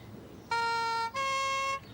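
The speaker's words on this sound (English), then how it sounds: "Stop playing with that siren" Siren being played with, two short loud bursts of a steady tonal wail, each about half a second long, cut off abruptly with a brief gap between them.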